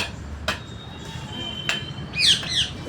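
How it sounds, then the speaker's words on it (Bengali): A common myna, a talking bird, gives a short run of warbling, squawky whistled calls near the end. Before that come a couple of sharp clicks over low rumbling city noise. "খুব সুন্দর কথা বলে এই শালিক পাখিটা।"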